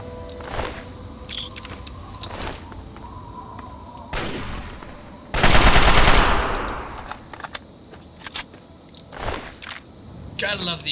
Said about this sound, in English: Gotta love the AK. I'm sorry, the Chinese assault rifle.